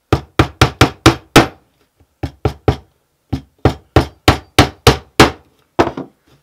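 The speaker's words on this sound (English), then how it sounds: "just kind of get it started with your finger and then just hammer it in" A small hammer drives a tiny nail into the back of a picture frame. Several bursts of quick, sharp taps are separated by brief pauses, close and loud with no voices.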